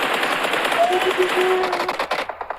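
Rapid spraying gunfire in a video game battle royale match, fast repeated shots that break into separate cracks near the end, loud under excited commentary.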